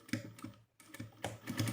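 A sewing machine fitted with a zipper foot runs in quick bursts of rapid stitching, with brief pauses between runs and no talking.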